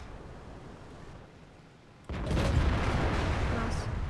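Artillery fire in the tank battle game World of Tanks hits as a sudden loud boom after a quieter stretch, then gives way to a sustained heavy rumble.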